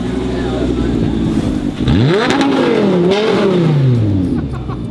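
A Lamborghini engine revs hard and loud nearby, its pitch sweeping up through a couple of throttle blips and falling back, while faint voices sound underneath.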